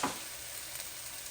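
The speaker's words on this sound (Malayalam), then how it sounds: "ഇനി ഇതിൽ കിടന്ന് ഈ പൊടികളൊന്ന് മൂക്കണം" Spice powders frying in a pan with onion and ginger for a pressure-cooker chicken curry, a steady close sizzle with a brief brighter burst at the start and no voices.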